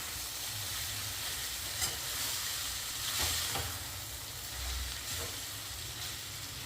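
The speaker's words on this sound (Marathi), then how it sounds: "आपण नूडल्स छान परतवून घेणार आहोत" Veg Hakka noodles are stir-fried in a pan, giving a steady close sizzle and hiss with periodic tossing and scraping strokes throughout.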